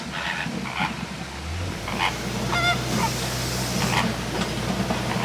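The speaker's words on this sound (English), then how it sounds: "Those are baby flamingos!" Flamingos, including fluffy young chicks, give repeated goose-like honking calls at Disney's Kilimanjaro Safari, heard at moderate distance over the steady low rumble of the safari vehicle.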